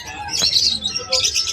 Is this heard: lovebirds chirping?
yes